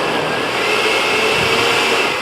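A blender purees chipotle pepper with fresh basil and coriander, a steady loud motor whir with a bright whine, constant over a couple of seconds without talk.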